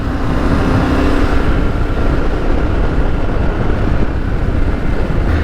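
A Yamaha Tenere 700 adventure motorcycle runs hard on a wet dirt trail with ABS and traction control off, its engine a loud continuous close roar mixed with wind buffeting, no voices.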